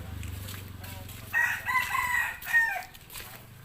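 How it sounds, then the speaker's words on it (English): Rooster crowing in an alley in Cambodia, one loud drawn-out crow rising over low background hum, fairly close and heard alone. "Hello, rooster."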